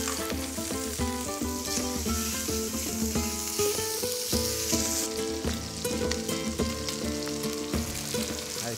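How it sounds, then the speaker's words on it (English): Trout fillets sizzle steadily in hot oil in a pan, a constant crackling hiss under prominent tonal background music. "And then when the oil is hot, I'm gonna lay the trout fillets in."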